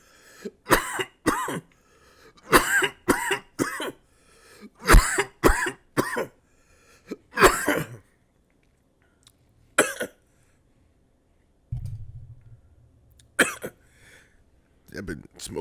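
A smoker coughs hard in a string of rough, close bursts, several grouped hacks followed by pauses and a few more coughs near the end.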